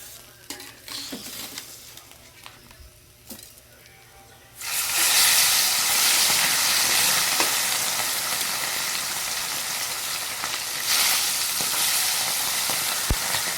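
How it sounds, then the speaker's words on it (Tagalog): Loud, steady sizzling of food frying in hot oil bursts in after a few seconds of quieter kitchen sounds, continuing with a dense hiss. "nandito si Mama Walin, siya po yung nagluluto"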